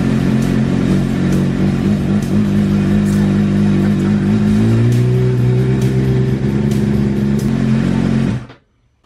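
A Suzuki GSX-R1000R sport bike engine revs loudly and close up, blipping on and off the throttle and then holding a sustained high-rev drone before cutting off suddenly.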